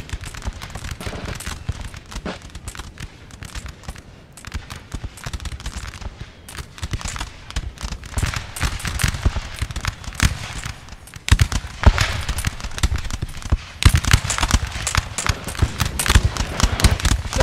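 Musket volleys ring out against a stone building in a video game battle, a dense crackle of overlapping shots that keeps building, loud and continuous with no pauses.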